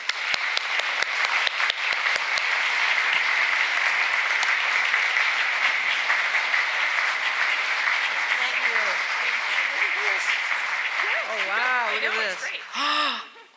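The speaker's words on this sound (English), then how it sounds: "So let's offer her a second round of applause." Audience applause for the governor at a housing summit in Portland, Maine, a sustained room-filling round of clapping that fades near the end as a voice begins speaking.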